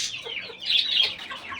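A chicken clucking close by in a small backyard coop, a short run of bright, rising squawking clucks with no talking.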